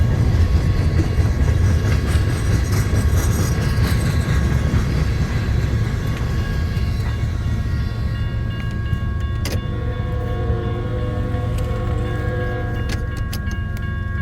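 The tail end of an eastbound freight manifest train rolls past as a blizzard begins in Missouri Valley, Iowa, with a loud, steady low rumble that eases off, then scattered metallic clicks and squeals as the cars clear, without any speech.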